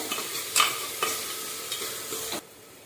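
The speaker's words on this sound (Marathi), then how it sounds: "यामध्ये आता बारीक कट केलेला कांदा टाकायचा आहे असा उभा पातळ चिरून घेतलेला आहे परतून घ्यायला" Thinly sliced onion sautéing in a hot pan for dalia khichdi, a soft sizzle with a few scraping stirs that cuts off near the end, no talk.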